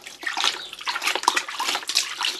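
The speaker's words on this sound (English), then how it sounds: "add a small amount of water at a time before you continue with your mix" Water splashes and trickles into a plaster mix for a small patch-up job, added in uneven spurts with short wet gurgles, close and fairly loud with no talk.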